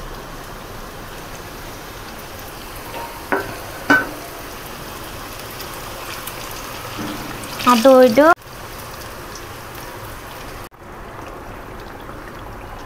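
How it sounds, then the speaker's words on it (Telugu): Karchikayalu sweets deep-frying in a pan of hot oil give a steady, even sizzling hiss throughout, with a short burst of talk partway through and a brief louder bubbling flurry near the end. "నూనె మొత్తం వేడైంది. వేడైనాక కర్చకాయలు వేసుకోవాలి."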